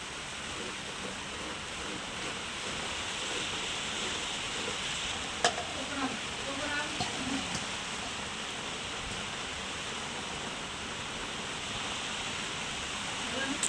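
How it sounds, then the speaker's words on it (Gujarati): Flour roasting in ghee on a low flame for mohanthal, a steady soft sizzle and hiss with occasional faint stirring scrapes, no one talking. "હવે આને ધીમી આંચે શેકવાનો લોટને"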